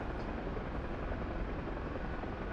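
A Huey helicopter in the DCS flight simulator gives off a steady, dense rotor and turbine roar, constant and unbroken. No voices are heard over it.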